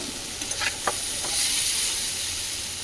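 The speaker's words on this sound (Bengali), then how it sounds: "উচ্ছে কুমড়ো দিয়ে আলু দিয়ে ভাজা হচ্ছে" Steady sizzling of bitter gourd, pumpkin and potato frying in a pan, with a few soft stirring scrapes and clicks, close and continuous.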